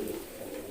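A Kolong pigeon coos softly in a loft, one brief, low, throaty murmur heard alone and fairly faint.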